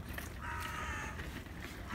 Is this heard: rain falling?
no